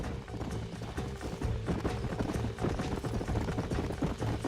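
Horse hooves pound in quick, continuous clip-clops within Red Dead Redemption 2 gameplay, a galloping rhythm under a dense, loud layer of game sound.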